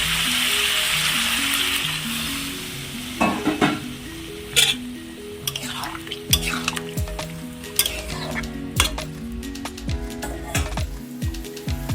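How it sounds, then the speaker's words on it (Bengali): Water poured into a pan of spiced cauliflower and potato masala sets off a loud burst of hissing sizzle that fades over a few seconds into bubbling, clinks and scraping stirs, all close up without speech. "এর মধ্যে অল্প করে জল দিয়ে দেবো"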